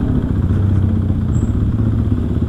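A Kawasaki KLX 450cc supermoto motorcycle engine drones loudly and close up, a steady throbbing rumble with no pause in the short stretch.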